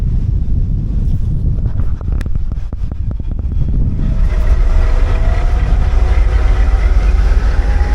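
A loud passenger train rumbles past with rhythmic clacking over the rails, then a steady roar with wind buffeting the microphone.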